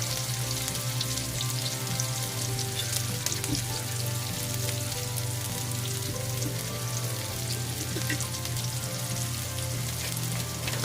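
Garlic, chili and peppercorns sauté in oil in a pan for squid adobo, giving a steady close sizzle and crackle that holds evenly throughout with no talking.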